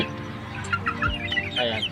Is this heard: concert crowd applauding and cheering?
no